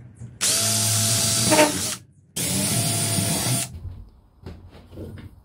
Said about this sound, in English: taking a drill with a long drill bit